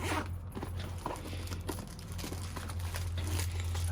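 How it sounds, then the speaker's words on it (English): The zip on a daily carry bag's back pocket is worked up close, giving short scratchy rasps mixed with fabric crinkling over a low steady hum. "Here in the back, there is a zippered pocket."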